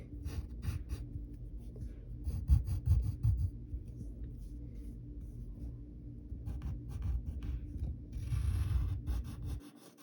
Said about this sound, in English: Then we got to draw the zipper